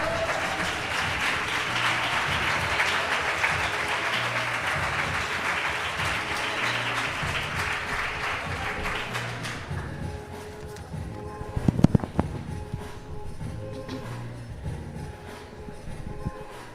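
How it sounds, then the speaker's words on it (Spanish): An audience at a poetry slam in Iruñea applauds poet Denise Esparza with loud, dense clapping that carries on steadily for about ten seconds, then drops to scattered claps and room noise. "un aplauso para ella"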